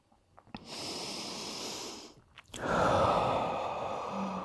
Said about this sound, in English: Breathing here, in and out for 6 breaths